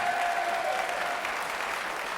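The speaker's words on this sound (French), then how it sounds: "Je voudrais qu'on l'applaudisse très fort parce qu'elle est rayonnante" Warm, steady applause from a French TV game-show studio audience for a contestant, a thick continuous patter of clapping with a faint tonal hum beneath it early on.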